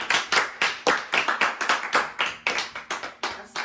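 A congregation at a praise and worship church service claps in loose rhythm, sharp overlapping hand claps repeating steadily and fairly close, with no voices over them.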